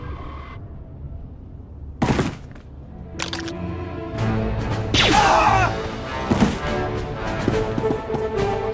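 Blaster gunfire and impacts in the video game Star Wars: The Old Republic, a chaotic burst of loud shots and crashes layered over a steady background of battle noise.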